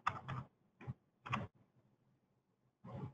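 A part number is typed on a computer keyboard, a few quiet clusters of close key clicks separated by short pauses.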